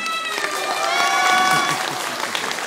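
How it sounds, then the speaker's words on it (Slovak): A television talent-show audience applauding, a dense wash of clapping that swells and then tapers over a couple of seconds, with whistles and crowd voices mixed in. "Aký potlesk si Lukáš zaslúži?"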